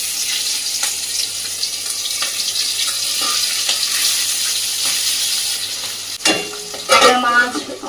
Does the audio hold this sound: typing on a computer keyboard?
no